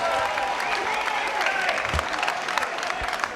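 Boxing crowd applauding two fighters after a ten-round bout, sustained dense clapping with cheers and voices mixed in, moderately loud and continuous.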